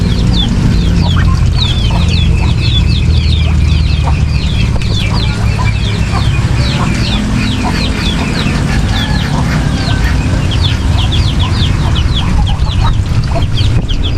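Chickens and chicks in a backyard farm in the countryside cluck and cheep continuously at close range, with many overlapping short peeps over a steady outdoor background.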